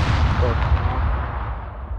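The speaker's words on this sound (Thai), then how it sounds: "ใครปาระเบิด" A boomy blast from a grenade explosion in the video game SCUM rumbles under a brief murmur, low and heavy, fading out over about two seconds.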